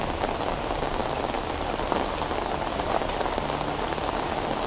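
Heavy rain falls steadily on surfaces, a dense, continuous patter of drops at even loudness throughout, with no voices.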